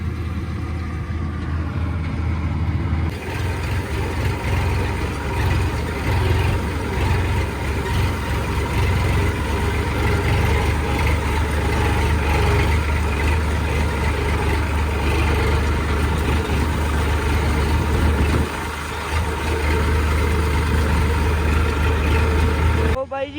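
A wheat harvester runs in the field, a loud, steady low engine drone with mechanical rumble that holds throughout, close by, while voices talk over it.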